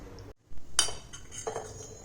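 A spoon clinks and scrapes against a metal bowl, stirring a raw mango and fenugreek pickle with oil in a few short, quiet strokes.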